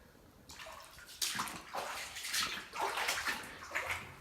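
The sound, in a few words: flood water sloshing in a flooded house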